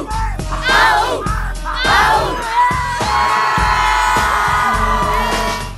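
A crowd of high school students at a school event cheers, yells and whoops loudly in overlapping bursts, with shrill shouting voices swelling into a sustained collective roar.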